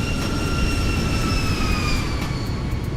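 A steady, loud roar from an aircraft flyby in the X-Plane 12 flight simulator, with a broad engine rumble and high whining tones that slowly drop in pitch as it passes.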